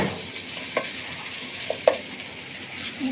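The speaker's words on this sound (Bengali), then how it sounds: "এই যে পোলাও নাড়াচাড়া দিতেছে।" Pulao is stirred in a cooking pot. A soft, steady sizzle runs under a few light scraping and clinking strokes from the spoon against the pot, fairly close and quiet.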